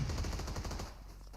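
Automatic gunfire in the mobile game PUBG Mobile during a competitive scrim, a rapid loud burst of shots that stops after about a second.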